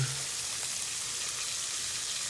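Chopped onion sizzles steadily in oil in a pan over medium-high heat, a continuous close frying hiss with no talking.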